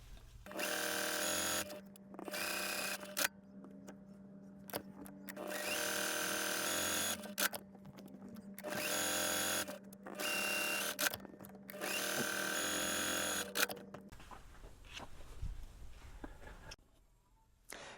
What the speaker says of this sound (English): now we're going to sew a scant 1/4 inch seam on either side of the line on both of these sets